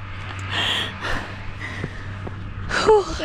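Heavy panting and gasping from someone climbing uphill at high altitude on a Swiss mountain walk near Grindelwald, breathy bursts close to the microphone over a low steady hum, ending in a vocal exclamation.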